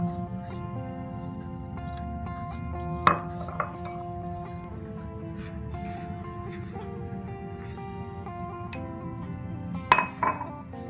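Dough mixture being stirred in a bowl as water is added bit by bit for a simple snack, giving steady clinks and scrapes of utensil against the bowl, with sharper knocks around the third and tenth seconds and a voice talking throughout.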